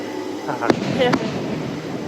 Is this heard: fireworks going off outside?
yes